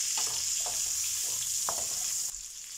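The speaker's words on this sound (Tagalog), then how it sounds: "At igisa na rin natin yung ating garlic ulit para sa ating moles or shells." Garlic sautéing in a hot pan for mussels, a steady bright sizzle with occasional stirring scrapes, close and continuous without talk.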